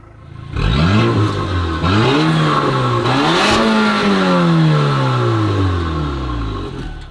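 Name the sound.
Porsche Macan engine revving with sports exhaust open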